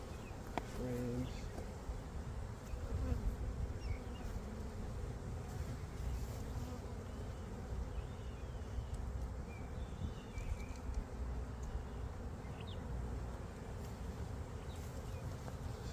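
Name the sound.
honey bees buzzing around open hive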